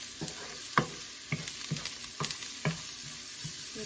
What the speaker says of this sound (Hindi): प्याज लाल होने तक इंतजार करेंगे.